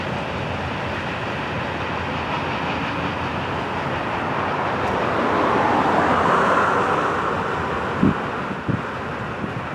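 Florida East Coast freight train 336 rumbles past in East Central Florida on a cool morning, a steady broadband roar of rolling cars swelling mid-pass with a couple of sharp clanks near the end, some wind buffeting the microphone.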